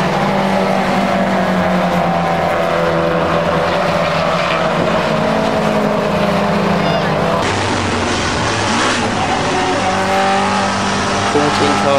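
Classic touring race cars, including Alfa Romeos, racing at Mallory Park, a loud sustained roar of several engines passing with rising and falling whine, under a commentator's continuous talk.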